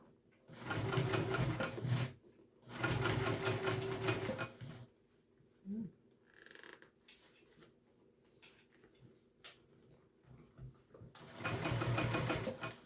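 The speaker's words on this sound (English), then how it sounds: "I'm going to go back over that skip stitch that I heard." A sewing machine stitches a backpack in loud, steady bursts of a couple of seconds each, separated by pauses with small handling clicks, then runs again at the end; no talk over it.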